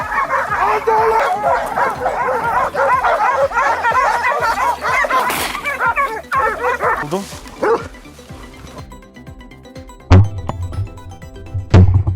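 Hunting dogs bark and yip during a wild boar hunt outdoors, a dense, overlapping pack of barks that thins out toward the end, where a couple of sharp thuds stand out.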